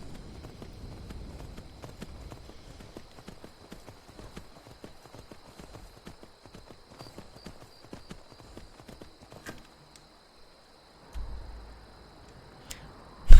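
Horse hooves clip-clopping at a steady trot while riding around a mountain in the video game Skyrim, close and fairly quiet, the rhythmic beats continuing for several seconds before fading near the end.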